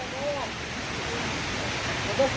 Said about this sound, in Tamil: இந்த சிற்றருவி வந்து ஒரு செமையான இடம்